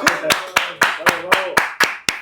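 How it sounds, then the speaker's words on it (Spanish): Hands clap in a steady rhythmic beat, about nine sharp claps at an even pace, loud and close, for guests on a conversation show, with a voice speaking over them. "Un aplauso para ellos."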